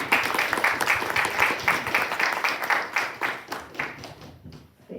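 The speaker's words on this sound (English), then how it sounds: "Round of applause for our panelists." An audience at a university economics panel on sports arena finance applauds the panelists, a steady, dense patter of many hands that fades away near the end.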